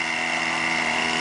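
A Veco 19 model airplane engine running during break-in, a steady high-pitched buzzing whine held constant and loud, with no voices.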